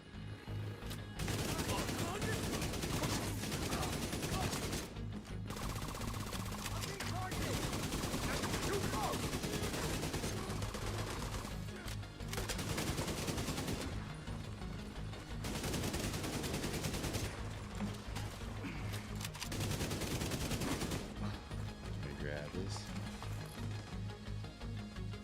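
AKM assault rifle firing in The Division 2, long loud bursts of rapid automatic gunfire separated by short pauses, repeating through the whole stretch.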